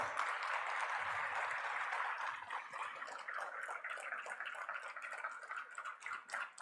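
Large auditorium audience applauding steadily to welcome India's Prime Minister Narendra Modi back to the stage at the India Mobile Congress 2023 inauguration, a dense continuous clapping that thins slightly toward the end.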